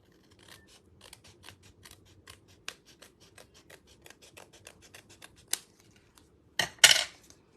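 Scissors snip through a card in a quick run of small, dry cuts, ending with a louder burst of snipping and rustling as the last piece comes away.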